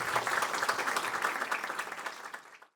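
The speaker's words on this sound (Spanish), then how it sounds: "Le vamos a dejar entonces con un fuerte aplauso con el maestro Dustin Muñoz." Audience applause at an academic congress lecture as the speaker is introduced, a dense steady burst of clapping that fades out near the end, moderately loud.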